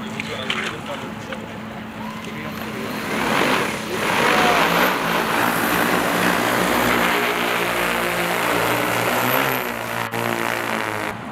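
A Kazhan drone's propellers whir up for takeoff, a steady droning buzz that swells and holds, with voices talking faintly underneath.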